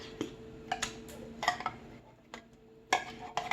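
Canned soup spooned and stirred into a chicken casserole, with scattered metallic clinks and taps of a utensil against the dish, quiet and irregular.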